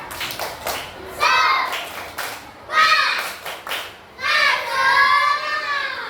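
A classroom of children doing a rhythmic spirit clap, bursts of clapping mixed with children's chanting voices in several short loud phrases.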